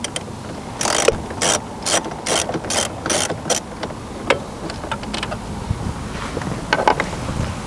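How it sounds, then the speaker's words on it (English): Ratchet wrench with a 10mm socket and extension backing out the factory head unit bolts in a 2016-2019 Toyota Tacoma dash, giving rapid bursts of clicking pawl strokes in a steady rhythm, then looser scattered ticks and handling noises nearby. "We're going to use a 10mm socket with an extension to remove 1, 2, 3, 4 bolts holding the factory head unit in place."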